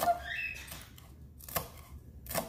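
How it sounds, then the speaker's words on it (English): A knife finely chops cilantro on a board, a few sharp, spaced taps ringing out amid quiet kitchen background. "go ahead and finely chop the cilantro"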